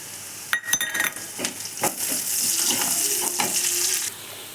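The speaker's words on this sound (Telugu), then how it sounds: "ఇది బాగా బ్రౌన్ కలర్ వచ్చే వరకు బాగా ఫ్రై చేయాలండి ఆనియన్స్ని." Onions and chillies fry in hot oil, giving a steady, close sizzle with scraping stir strokes and a few utensil clinks against the pan while a chicken curry is being prepared.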